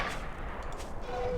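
Gunfire from a weapon in the 1998 video game Trespasser, a dense, continuous rattle of shots filling the whole short moment at steady loudness.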